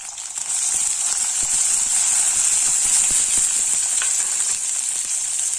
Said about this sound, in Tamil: கருவேப்பிலையும் சேர்த்துடலாம் இந்த வெங்காயத்தை சேர்த்துறேன்